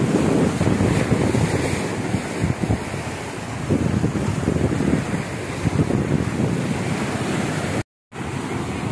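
Surf washes in at a warm sea beach at Mui Ne, Vietnam, with rushing waves mixed with heavy wind buffeting the microphone and a brief dropout near the end.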